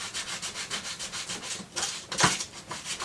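Steady rhythmic rasping as the rubber surface of an inner tube is scuffed with abrasive before patching, close and fairly loud, with quick back-and-forth strokes and a brief harder scrape near the end.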